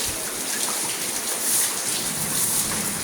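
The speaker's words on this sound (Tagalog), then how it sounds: "lakas ng ulan ah" Heavy rain pours down in a dense, constant hiss, loud and close, with no other sounds standing out.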